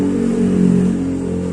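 A motorcycle engine idling on fresh Shell Advance oil, a steady close hum with a low even pulse and no revving.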